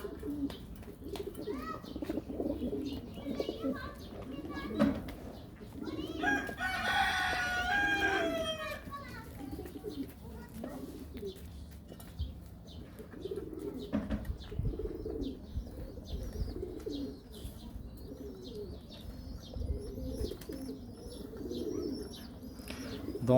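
Pigeons kept in a home loft coo repeatedly at close range, soft throaty calls recurring over a steady outdoor background, with brief other bird calls mixed in.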